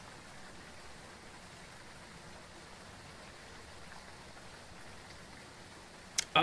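Steady hiss of rain falling in the ghost-hunting video game Phasmophobia, a soft even wash of noise throughout with a brief louder knock at the very end.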